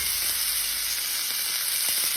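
Steak sizzling steadily in a hot pan after being flipped, a continuous bright hiss with occasional small pops, fairly loud and alone with no talking.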